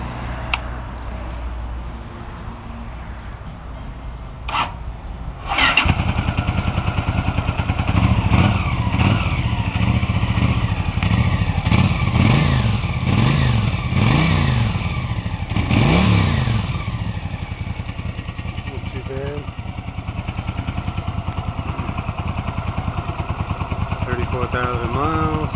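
A Honda CX650C motorcycle engine cranks and fires up, then revs repeatedly in rising and falling bursts before settling into a steady, close, loud chugging idle.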